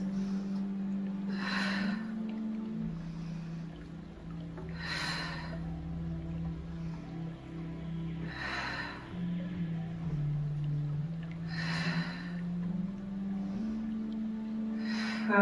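Steady, rhythmic breathing during a Pilates mat exercise, with five sharp exhalations spaced a few seconds apart over a sustained low hum of background noise.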